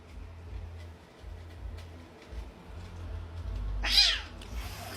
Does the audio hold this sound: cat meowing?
yes